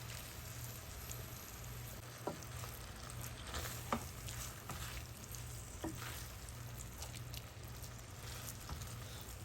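Chhena frying in ghee for Bengali sondesh, giving a steady soft sizzle throughout with a few sharper pops and stirring scrapes, no talking.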